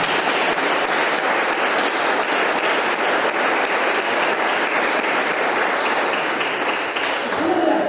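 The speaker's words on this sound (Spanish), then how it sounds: "Regálenle ese aplauso que nos está pasando" Congregation applauding at a church service, a dense, steady wash of clapping that stays loud and continuous throughout, with some voices mixed in under it.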